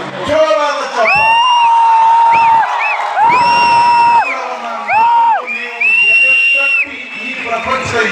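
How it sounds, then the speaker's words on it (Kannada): A large crowd at an honouring ceremony for Ravi Basrur cheers and whoops loudly, with shrill whistles and shouts rising in bursts over a continuous roar of applause. "ರವಿ ಬಸ್ರೂರ್ ಅವರಿಗೆ ಜೋರಾದ ಚಪ್ಪಾಳೆ"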